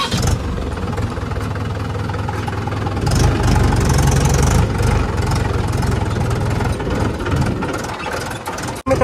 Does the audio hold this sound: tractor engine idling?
yes